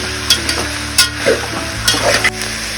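Carrots, knol-khol and potatoes frying in a pan for South Indian menthya pulav, an even close sizzle punctuated by several sharp spoon scrapes and clanks against the pan, with no talking.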